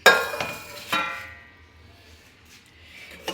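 Washed dishes and pots being put back in place in a home kitchen: a few close metallic clinks and clatters, separated by quiet stretches, with a final knock at the end.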